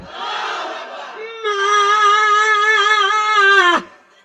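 A large crowd at an Islamic sermon gathering answers a Naraye Takbir call by chanting Allahu Akbar in unison, a loud, sustained shout that holds for a couple of seconds and then cuts off sharply.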